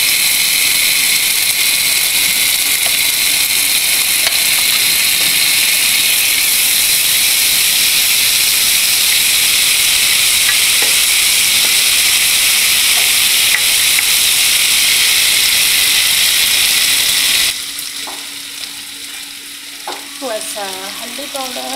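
Chopped onions browned with ginger, garlic and green chili paste fry in hot oil for mutton biryani, giving a loud, steady close-up sizzle and hiss that drops off sharply near the end as a voice begins speaking.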